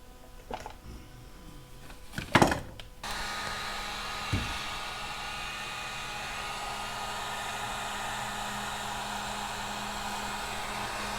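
A heat gun melts solder connectors on the wiring of a Kawasaki Z900RS motorcycle, blowing as a steady, close airy roar after a few brief handling clicks at the start.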